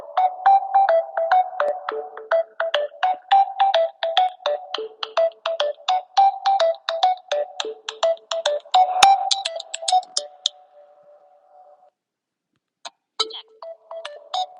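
A phone ringtone plays loud and close as a fast, repeating melodic pattern of plucky electronic notes for about ten seconds, then a sustained tone and a brief restart after a short pause.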